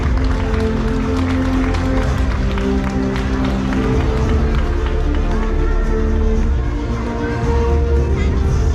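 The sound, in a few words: applause for the winners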